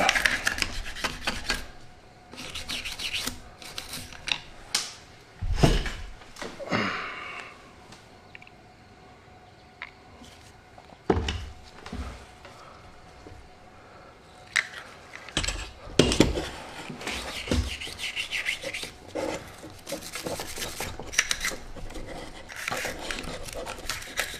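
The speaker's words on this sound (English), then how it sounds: "Nylon brush, scrub away." A nylon brush scrubs Daniel Defense AR15 rifle parts in irregular bursts of close, dry scratching with quieter gaps and occasional light knocks.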